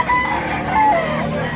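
Roosters crowing at a chicken market in Tabunok, Cebu, with one clear drawn-out crow followed by a second wavering call, carrying over a steady background murmur.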